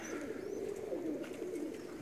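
A teddy pigeon coos in soft, repeated low murmurs close by, with faint background chatter and hiss around it.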